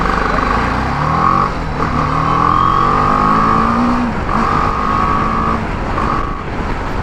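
A BMW G 310 GS motorcycle accelerating through a U-turn, the engine note repeatedly rising in pitch, dropping at gear changes and rising again, loud and close with wind rush underneath.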